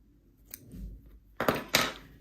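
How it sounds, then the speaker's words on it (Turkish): Scissors snipping crochet yarn close up: a faint first click, then two sharp, distinct cuts in quick succession over low room noise. "burada ipimi kesiyorum"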